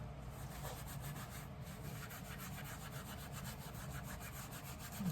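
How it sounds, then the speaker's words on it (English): 000 steel wool soaked in acetone scrubs vigorously over an Allen Edmonds Hastings leather shoe, a quiet close rasping in quick repeated back-and-forth strokes. "and just scrub like crazy"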